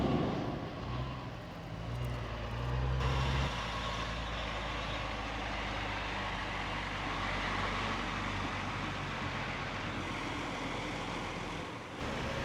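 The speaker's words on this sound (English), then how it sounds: "Here's the machines and the truck." A plumbing crew's truck and digging machines arrive at a renovation site, a steady engine drone with a deeper low rumble early on, moderately close and continuous.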